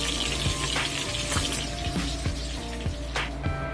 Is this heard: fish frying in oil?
yes